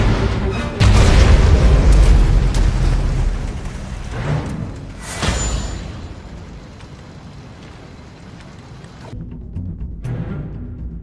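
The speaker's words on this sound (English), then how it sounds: "Nuclear missile launched." Nuclear missile detonation in a military strategy video game: a loud, deep boom bursts in near the start and rumbles on, a second surge follows midway, then the roar fades into a lower lingering rumble before cutting off.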